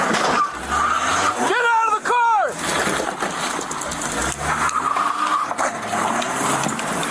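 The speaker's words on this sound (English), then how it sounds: "He just took off. He's rammed the sign. It's a red Volvo." A red Volvo accelerates hard with screeching tires and engine roar, then slams into a sign, loud and close amid shouting voices.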